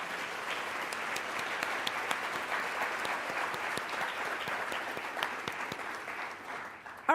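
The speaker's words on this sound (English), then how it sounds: "Let's give them a huge round of applause." An audience at a Columbus Metropolitan Club panel event applauds the speakers, a sustained, even crackle of many hands clapping for about seven seconds, fading slightly at the close.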